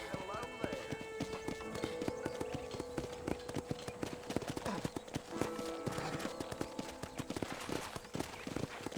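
Steady clip-clopping hooves of horses in the video game Red Dead Redemption patter continuously over a busy background, with a voice talking along beneath the hoofbeats.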